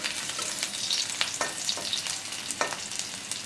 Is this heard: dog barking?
no